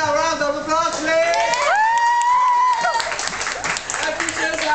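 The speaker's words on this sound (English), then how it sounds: "Can we give our round of applause, please?" Guests at a birthday party clap, cheer and whoop together with loud excited voices shouting over the applause.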